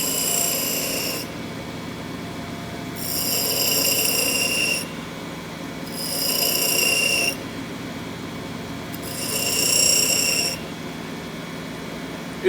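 A bench grinding wheel sharpening a drill bit held by hand, a steady whirring hum with four rhythmic bursts of bright, hissing grinding as the bit is pressed against the wheel, close and without talk.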